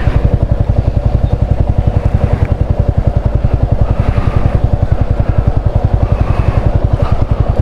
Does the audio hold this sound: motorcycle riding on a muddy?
yes